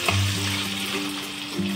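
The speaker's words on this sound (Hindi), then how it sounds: "देखिए कढ़ाई में हमने 2 चम्मच ऑयल डाल दिया है," Soya chunks frying in two spoons of oil in a kadai over medium heat: a loud, close, continuous sizzle with a low hum underneath and no voices.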